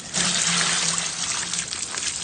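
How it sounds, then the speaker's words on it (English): A bucket of water poured gently onto a campfire, a close steady splashing pour with hissing, lasting about two seconds without pause. "pour it on the fire very gently"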